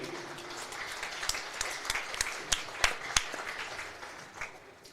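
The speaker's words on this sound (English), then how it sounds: "Let's give a round of applause for Mayo Clinic" Scattered crowd applause in a high school gym at a girls basketball game, fairly faint and distant, with a few sharper individual claps standing out before it tapers off.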